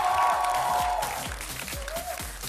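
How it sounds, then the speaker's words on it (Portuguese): A studio audience applauds a guest writer and teacher on a youth writing program. Moderate steady clapping, fairly close, with a faint tonal hum in the background. "vamos aplaudir Tenório Telles"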